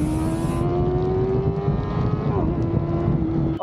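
A Honda CBR650R motorcycle engine revs and accelerates with a steady, rising whine, loud and close under heavy wind rush, briefly shifting pitch partway through.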